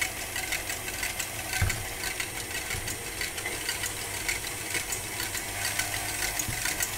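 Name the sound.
electric mixer whipping egg whites at low speed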